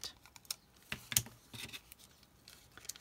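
Scissors snip through a tissue paper photo print in a quiet room, a scattering of small, close, crisp cuts and rustles with one sharper snip in the middle.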